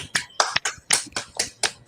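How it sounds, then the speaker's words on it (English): A rapid run of about eight crisp finger snaps in a quick, fairly steady rhythm, close and clear with nothing else behind them. "Snap your fingers"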